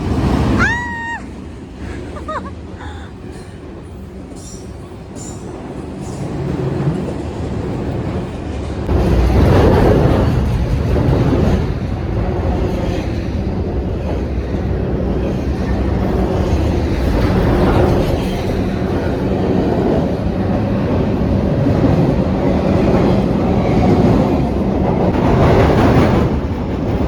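A train crossing a bridge overhead in Oregon's Columbia River Gorge waterfall corridor, heard from below as a loud, sustained rumble and rattle of rail cars rolling steadily across for most of the span.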